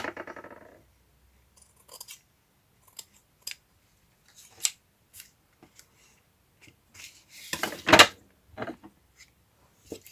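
Scissors snip paper in scattered, irregular cuts, close and crisp, with quiet pauses between them and a longer burst of snipping near the end.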